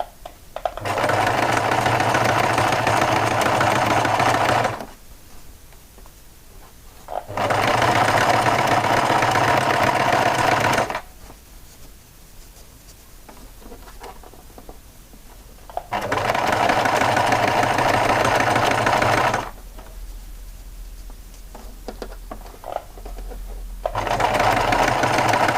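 Domestic sewing machine topstitching through thick layers of fabric to close an opening, running in steady buzzing stitching runs of several seconds each, separated by quiet pauses, close and loud.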